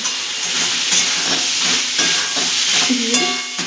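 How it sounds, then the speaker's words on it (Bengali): Fried shrimp and pointed gourd being stirred through sizzling masala in a hot pan, a steady close frying hiss with scraping spoon strokes throughout, no talk. "এবার আমরা এর মধ্যে একে একে ভাজা চিংড়িগুলো আর পটলগুলো দিয়ে আর একটু নাড়াচাড়া দেবো"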